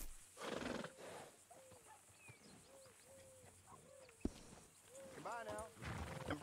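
A horse at a stable in the video game Red Dead Redemption 2, whinnying and snorting among low ambient noise, with a sharp knock partway through and a voice speaking at times.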